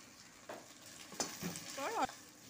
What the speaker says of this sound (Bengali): আদা বাটা দেওয়ার পর অল্প ভেজে নিলাম।